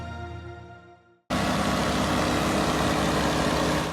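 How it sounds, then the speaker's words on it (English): Custom-built tractor powered by two Detroit Diesel 6-71 engines: a fading tail of engine sound drops nearly to silence, then the twin diesels cut in abruptly with a loud, rough, steady roar that holds to the end. "Who doesn't love the sound of 2 Detroit Diesel 671s?"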